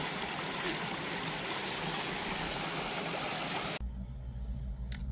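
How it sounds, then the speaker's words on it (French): A small river on the Appalachian Trail flows with a steady, broadband rush of moving water that runs unbroken for most of the span, then cuts off abruptly into a quieter, low hum near the end. "Une petite rivière à traverser."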